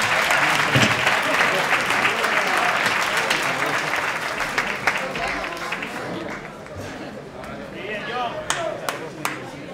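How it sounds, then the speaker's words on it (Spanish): A crowd at a boxing event applauds two fighters after the decision, loud sustained clapping and cheering that slowly thins out into scattered claps and murmuring voices. "Aplauso, por favor, para los dos guerreros."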